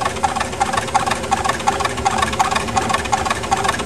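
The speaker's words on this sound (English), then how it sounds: "The noise you hear is the counterweights rubbing up against the new plexiglass cover." A steam launch engine runs steadily while its counterweights rub against a new plexiglass cover, giving a continuous buzzing, rhythmic scraping beat with regular ticks, close and without speech.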